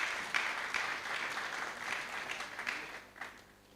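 Audience at a finance and investment seminar gives a short round of applause, a steady patter of clapping that swells briefly and fades near the end, with no talk over it.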